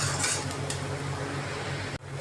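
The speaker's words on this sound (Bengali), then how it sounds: "তো দেখো পেঁয়াজগুলো লাল লাল করে ভাজা হয়ে গেছে" Onions fry hard in a pan for a spicy chicken curry and are stirred, giving a steady close sizzle with a few scrapes and clinks of the spoon, then a brief break near the end.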